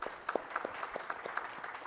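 Applause at a management day awards event, a short burst of scattered hand claps with distinct individual strikes, fairly soft and roomy.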